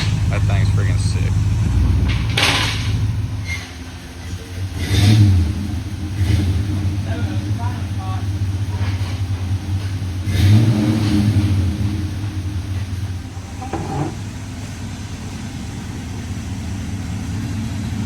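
Toyota Tundra pickup with muffler and resonator removed, revving hard in several loud bursts over a rough low idle, close by, with people talking in the background.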